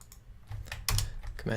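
Computer keyboard keys tapped in a short cluster, a few close, light clicks with a slightly louder press near the middle, while someone works in the Unity editor; a brief voiced sound rises at the end.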